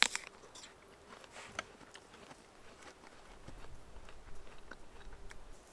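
Someone bites into a crisp Sunrise apple and chews it, a quiet series of sharp crunches and softer chewing sounds close to the microphone, with no talking.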